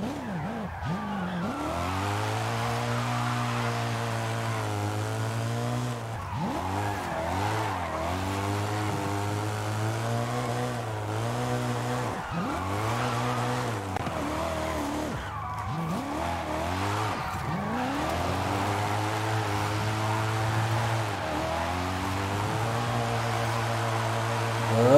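Modified BMW M5 E39 in the racing game Forza Horizon 5, its engine droning and revving up and down through repeated gear changes for a long stretch, with tire squeal and skidding, loud and steady with no talk.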